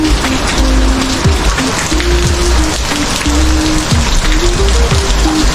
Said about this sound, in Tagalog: isang linggo na po na walang tigil po ang ulan